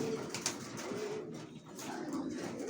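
Several racing pigeons keep up a soft rolling coo inside their loft, a dense overlapping burble heard near and steady for a few seconds, with no voices.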